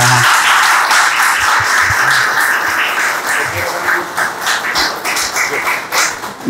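Audience applause at a conference, a dense wash of clapping that thins into scattered, uneven claps toward the end.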